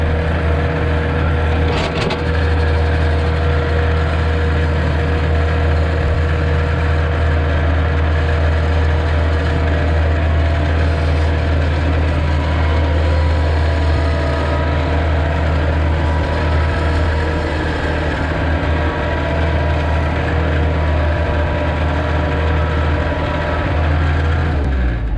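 A tractor drags a land plane over rutted clay, its engine droning at a steady low pitch under continuous mechanical rattling and clanking that carries on unbroken, loud and close, with no voices.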